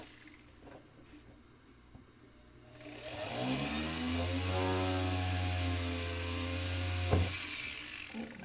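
A power drill bores a large hole: quiet handling at first, then a loud, steady motor whine runs for about four seconds before cutting off.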